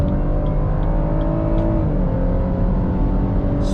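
From inside a 2021 Chevrolet Blazer RS V6 on the highway, a steady engine drone rises smoothly under acceleration along with constant road and wind noise, without talking.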